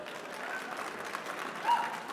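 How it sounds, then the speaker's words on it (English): Crowd at an Oregon Democratic election-night gathering applauding union members, a steady wash of clapping throughout with a brief louder swell near the end. "let's give an applause to all our union members who are here tonight"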